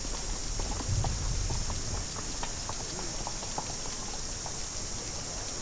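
Heavy rain pours down at night in a dense, hissing wash, with scattered drops tapping nearby and a low rumble underneath.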